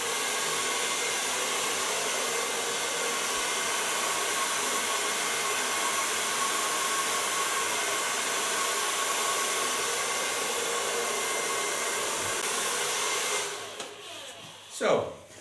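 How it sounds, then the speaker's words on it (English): A hair dryer runs steadily and loudly while blow drying wet, short platinum blonde hair, a continuous close whoosh that cuts off near the end, followed by a brief rustle. "I'm gonna blow dry it because it doesn't look wet, but it is wet"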